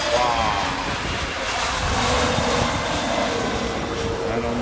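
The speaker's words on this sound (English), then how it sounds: "look at that, the plane take off." A plane takes off at London Heathrow Airport in windy weather, its engines a loud, continuous roar heard from nearby that stays steady and broad through the whole stretch.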